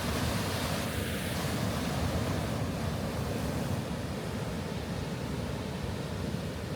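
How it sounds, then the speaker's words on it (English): Ocean waves roll in at La Jolla Cove in San Diego, a loud, unbroken wash of surf mixed with gusty wind buffeting the microphone. "Look at the waves coming in."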